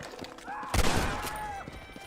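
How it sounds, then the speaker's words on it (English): Gunfire in a cowboy video game cracks out in one loud burst of shots aimed at the player, mixed with game sound effects and tones. "Who's shooting at me?"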